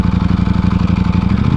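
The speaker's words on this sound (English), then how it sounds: "Oh, we got a Rolls Royce popping off." A large Rolls-Royce coupe SUV engine throbs loudly nearby with a rapid, pulsing rumble, steady throughout with no talking.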